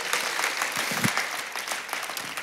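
A church congregation claps together at a sermon, a steady, dense wash of many hands sustained throughout, fairly close and full, with no voices over it.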